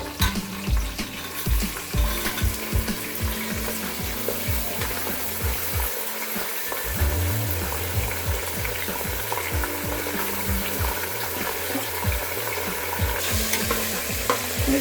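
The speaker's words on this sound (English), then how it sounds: "once it starts to scatter a little bit, you can put the onion." Onions frying over high heat in a pan for mutton kadai: a loud, steady sizzle with repeated stirring and scraping scrapes throughout, no talking.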